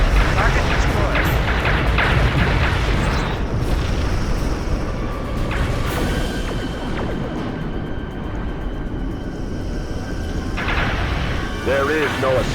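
Starship explosion in the space combat game Star Trek: Legacy, heavy booming blasts and rumbling debris layered under game music and voice lines, with sharper bursts early and sustained low roar throughout.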